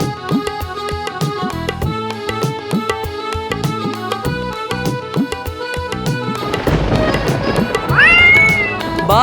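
Cat meowing within a children's Hindi rhyme about rain, a mewing cry set against bright tuneful music and a sung melody, with a more distinct drawn-out meow toward the end.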